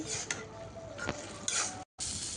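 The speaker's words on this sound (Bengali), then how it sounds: "নেড়ে চেড়ে নিচ্ছি।" Malabar spinach (pui shak) bhaji being stirred in a pan, with soft scraping and clinking of a spoon against the metal over a faint sizzle, briefly cut by a moment of silence near the end.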